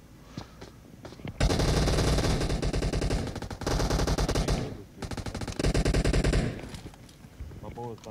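Long bursts of rapid machine gun fire in a first-person shooter match, loud and close, cutting in and out in several sustained volleys with brief gaps between them.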